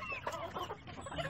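Aseel chickens on a farm giving a short run of soft, irregular clucks, close and fairly quiet over a faint background.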